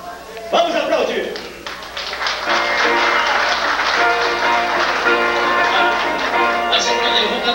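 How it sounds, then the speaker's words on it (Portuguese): Audience applause at a live sertanejo singing performance with viola, a sustained dense wash of clapping that swells in after a brief pause and stays loud throughout, with voices mixed in. "Vamos aplaudir!"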